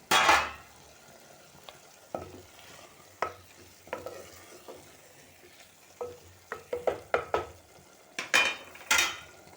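Val bean bhirda cooking in a pot with a little hot water added, stirred by a spoon that gives scattered scrapes and clinks over a low, steady simmering sizzle, with no talk.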